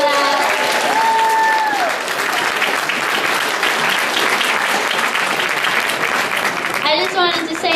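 A crowd at the 2018 MSU Tower Guard induction ceremony gives sustained, loud applause, dense and continuous, with a brief cheer early on and voices rising near the end.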